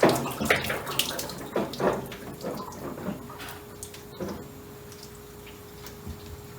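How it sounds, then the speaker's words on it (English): Water gushes and splashes from a gas water heater as its thermostat is pulled out, loud splattering bursts up front that settle into a steady trickling stream with a faint hum underneath. "Water!"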